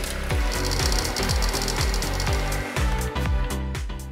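A loud electric hand mixer whips cold cream until stiff in a tall container, whirring steadily, its motor pitch wobbling in repeated dips as the beaters work through the thickening cream, with no talking.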